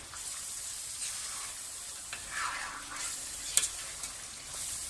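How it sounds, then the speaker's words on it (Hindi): Turmeric and coarsely ground dried coriander roasting with chicken in a pan, a steady soft sizzle with occasional stirring scrapes and a sharp utensil tap near the end. "इनको हम अच्छी तरह से अब भून लेंगे"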